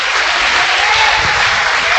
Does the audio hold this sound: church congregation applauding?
yes